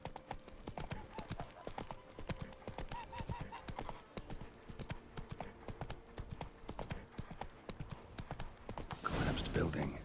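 Roach the horse trots in The Witcher game, her hooves making a rapid, steady clip-clop on hard ground, fairly close and continuous, with a louder rustling surge near the end.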